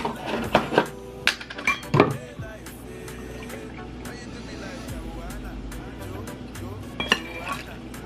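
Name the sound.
stirring porridge in a pot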